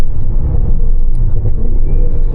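A supercharged 6.2 liter hand-built V8 in a Cadillac Escalade V rumbles deep and steady from inside the cabin, a low continuous drone with slight surges and no talk.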